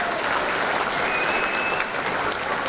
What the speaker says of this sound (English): So let's give a big round of applause to our past inductees.